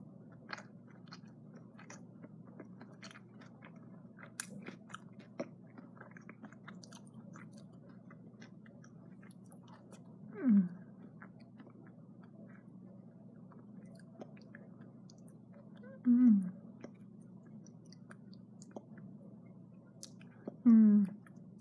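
Soft, close chewing of a chocolate peanut butter bar, quiet and sticky throughout, with three louder crunchy bites near the end and no talking.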